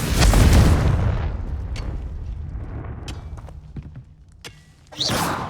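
A Confringo fire spell explodes in the Hogwarts Legacy video game: a loud, deep boom at the start rolling into a long rumbling decay with scattered crackles, then a second sharp burst near the end.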